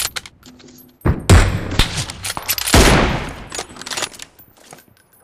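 Loud bursts of automatic gunfire from a PUBG Mobile match, with a few sharp single shots then two dense rapid-fire volleys close by, trailing off into scattered clicks.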